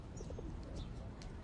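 Pigeons give soft, low coos in a brief moment, faint against a steady background hiss.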